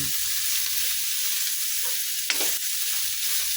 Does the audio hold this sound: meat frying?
yes